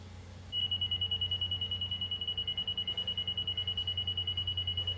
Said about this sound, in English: you'll hear that it's going to give me an even tone when I hit 0.